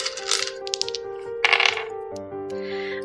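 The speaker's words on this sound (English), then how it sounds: "I'm gonna roll with another dice because this dice has given me one good roll" Dice rattle and clatter across a tabletop during a game session, with a few quick bouncing clicks up close over a soft tonal background.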